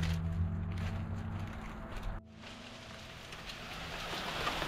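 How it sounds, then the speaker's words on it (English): Steady rain falls outdoors on a spring day, a dense broadband hiss that holds through the clip with a brief dip near the middle, with no voices. "It was not supposed to rain today."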